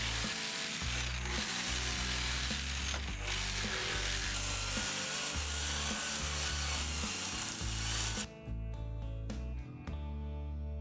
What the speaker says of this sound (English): Then I cut the 10mm plywood I will be using for the base part.